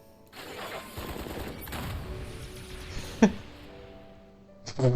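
A rocket launcher fires in Final Fantasy XIV Dawntrail, a sustained rumbling burst of blasts for several seconds, then a sharp thump and a closing crash amid game effects.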